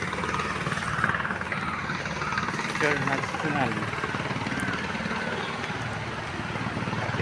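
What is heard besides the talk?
helicopter flying overhead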